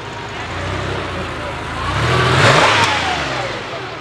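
A 1986 Porsche 911 engine revs close by, a steady throaty drone that swells into a louder rising surge around the middle before easing back, with no talk over it.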